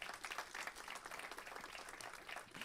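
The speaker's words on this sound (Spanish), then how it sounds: "Dale un aplauso de gratitud al Señor" A church congregation applauds in gratitude during a sermon, dense, even clapping that stays faint and distant throughout without a break.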